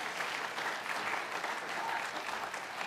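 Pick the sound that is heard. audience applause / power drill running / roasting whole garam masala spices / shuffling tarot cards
audience applause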